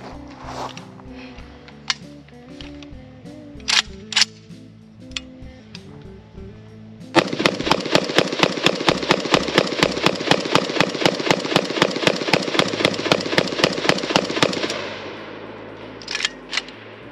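A Palmetto AK-102 rifle chambered in 5.56 fires green tip rounds: a few scattered single shots, then a long rapid string of evenly spaced reports, followed by a couple more shots and mechanical handling clicks.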